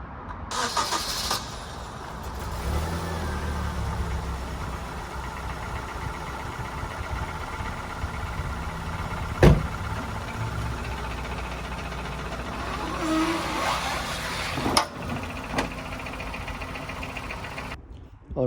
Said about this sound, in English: what I'm gonna do now is just drive the car back down on a level ground